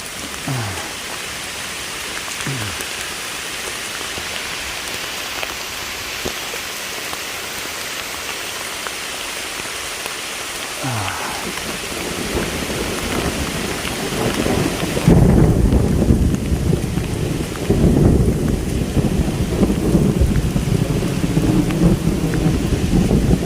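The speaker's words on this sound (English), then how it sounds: "the rain is let up, but it's still thunderstormy" Steady heavy rain pours down on the Appalachian Trail, heard from beneath trees, while low rolls of thunder rumble several times, growing louder and denser toward the end.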